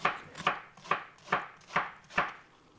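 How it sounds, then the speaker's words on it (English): A knife chops an onion on a board in six steady, evenly spaced strokes, each a crisp close thud with a short decay, with no talk. "let's just chop our onion"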